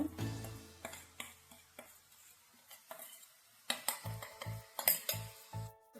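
Beetroot ladoo mixture stirred in a pan with a spoon, giving a run of quiet knocks and clinks that turn into steady rhythmic taps near the end.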